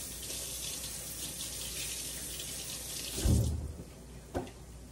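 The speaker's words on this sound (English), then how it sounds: "let me wash that up" Kitchen tap water running steadily into a sink while something is rinsed, a continuous hiss with a brief splash and a clunk near the end as the flow cuts off.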